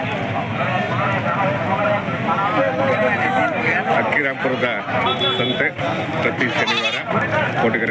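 Sheep bleat amid a busy crowd at the Akki Rampura sheep market in Tumkur district, with loud continuous chatter and overlapping voices throughout.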